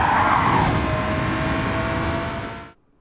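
Race car in Gran Turismo 7 under full throttle toward the finish line, a loud steady engine drone with a whine on top that cuts abruptly to silence near the end.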